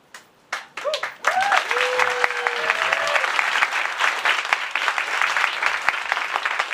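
Audience applause fills a hall at a live debate on wokeness in comedy, building after a few opening voices into sustained, dense clapping that holds steady and fairly loud to the end.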